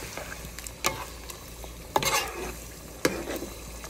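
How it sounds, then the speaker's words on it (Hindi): Curry masala with ginger and garlic fries for aloo gosht, a continuous close sizzle broken by three sharp scraping stirs of the spoon against the pot. "यहाँ पर हमारा सालन का मसाला भून रहा है"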